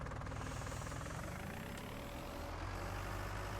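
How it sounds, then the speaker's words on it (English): A tractor engine idles in the video game Farming Simulator 19, giving a steady, dense, low mechanical rumble that holds evenly throughout with no voices. "I had left my tractor on."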